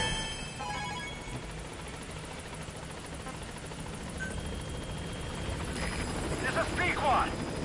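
The Pequod transport helicopter in Metal Gear Solid V: The Phantom Pain approaches a landing zone, its rotor drone steady and slowly growing louder, while a radio voice talks over it.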